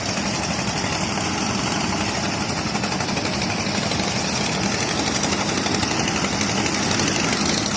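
A loud, steady engine on a sand dredging boat in Sylhet drones and rattles continuously, a constant mechanical hum with no breaks and no voices.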